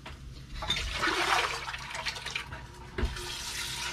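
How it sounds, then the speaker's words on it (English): Water runs from a tap as a breakfast bowl is rinsed at a kitchen sink, giving a steady gushing splash for a few seconds that briefly lulls, then picks up again toward the end. "give his bowl a quick rinse"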